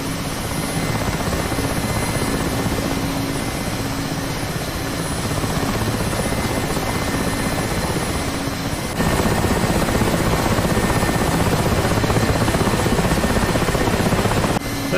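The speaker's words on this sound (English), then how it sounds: "You hear the turbine struggling a bit as we start flying." Rotor and turbine of a Mi-8 Hip helicopter in the DCS flight simulator keep up a loud, steady whirring drone with a constant rotor chop, growing slightly heavier partway through as the turbine strains under load in flight, with no voices.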